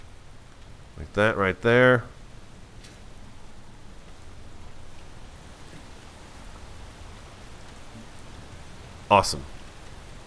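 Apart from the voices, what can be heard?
rain falling in the video game Space Engineers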